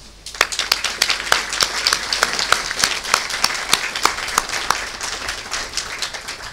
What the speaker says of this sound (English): A special round of applause for the Concretes.